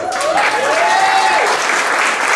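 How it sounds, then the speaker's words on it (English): Audience at a blues reunion show claps hands in a loud, dense burst of applause that fills the whole moment, with a faint sustained musical tone gliding underneath. "And if you agree with me, clap your hands"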